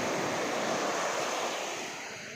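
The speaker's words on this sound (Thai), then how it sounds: "คลื่น" Sea waves, growing bigger and stronger, break on a Phuket beach near an airport, a steady, close rushing wash with wind noise that fades slightly at the end.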